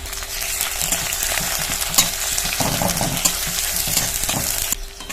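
Onion, crushed garlic, nigella seeds and chopped green chili fry in oil over medium flame, a loud, close sizzle with repeated spoon-stirring scrapes that cuts off abruptly near the end.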